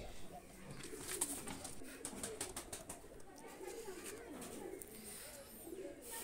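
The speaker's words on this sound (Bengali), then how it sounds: "এটা হলো নর কবুতর" A male pigeon coos in a low, soft, repeated rumble, close but quiet, amid faint rustling and background chatter.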